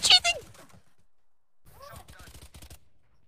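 Gunfire from a PC shooter game: a loud, brief burst of shots right at the start, then a player talking over quieter game sound.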